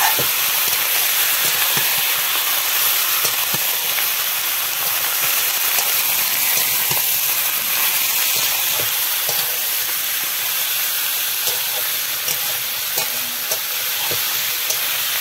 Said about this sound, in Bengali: এইভাবে একটু ভেজে নিলাম।